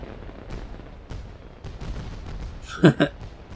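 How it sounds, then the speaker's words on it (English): Small fireworks crackle in the video game Ni No Kuni 2: Revenant Kingdom, a quick pair of bright pops near the end over a low, rumbling game soundtrack. "Oh, I like those little fireworks."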